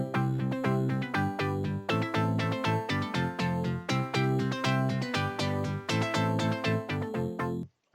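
Synth chords built from a triangle wave and a saw wave, with filter automation opening and closing the tone, play steadily and loud in rhythmic chord stabs, cutting off near the end.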